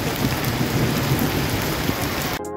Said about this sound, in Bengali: অবশেষে বৃষ্টি থেমে গেছে।